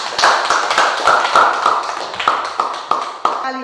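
A classroom full of people claps steadily, a dense patter of hands that holds for a few seconds before thinning out.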